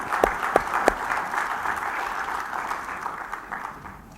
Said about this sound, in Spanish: Dele palmas al Señor porque hay bendición.